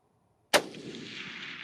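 A single sharp rifle shot cracks out during a Coues deer hunt, loud and close, with a long rolling echo trailing off through open country.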